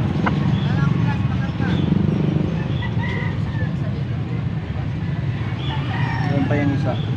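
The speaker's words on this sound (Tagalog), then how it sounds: "Dami lang dalang manok." Chickens cluck and call continuously from close by at a market in Angeles, Pampanga, with a rooster crowing now and then over a busy backdrop of voices and traffic.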